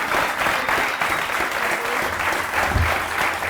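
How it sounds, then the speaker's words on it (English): Sustained audience applause at a book launch, steady dense clapping from a crowd that carries on evenly for several seconds with no speech over it. "I'd like to finish by giving a round of applause to Paddy."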